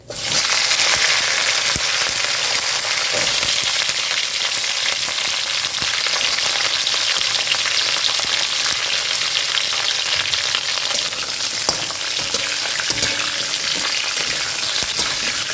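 Drumsticks and potato pieces fry in tempered oil, a loud, close, continuous sizzle with crackling pops and occasional stirring scrapes throughout.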